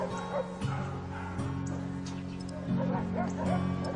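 A little kennel dog yips and whimpers in a series of short, high cries and whines close by, with a faint voice in the background at moments.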